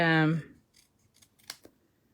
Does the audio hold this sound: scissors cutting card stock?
yes